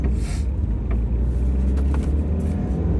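Steady low engine rumble of a car idling and rolling at a stop sign, continuous and close, with faint road noise and no talk over it.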